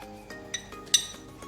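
A spoon stirs cornflour slurry in water, giving a few quiet, light clinks against the bowl over a soft background.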